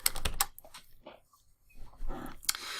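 Someone taps on a computer keyboard in short, uneven clusters of soft clicks with quiet gaps between, close by and fairly faint.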